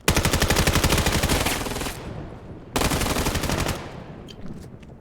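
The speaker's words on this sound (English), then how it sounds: "Yellow Hat holding, takes down Shrads cleanly through the skull." Gunfire in the VR shooter game Vail during a playoff match: two long, loud bursts of rapid automatic fire, close and dominant, separated by a brief gap.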